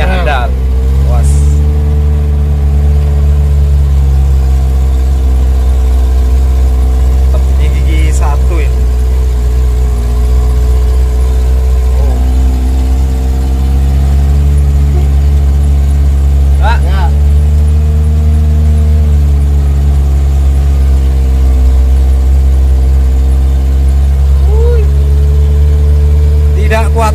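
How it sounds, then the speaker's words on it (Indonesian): Engine of an old 1979 Colt T120 pulling hard up a long, steep hill, a loud steady low drone that rises and falls with the load throughout, with voices talking over it inside the vehicle. "tetap handal kuat mobil tua Colti 120"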